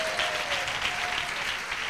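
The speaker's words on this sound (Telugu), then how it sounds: "చప్పట్లు కొడతాం గట్టిగా ఒకసారి" Many hands applaud together as a church congregation claps hard during a sermon, making a dense, even wash of clapping that runs without a break for about two seconds.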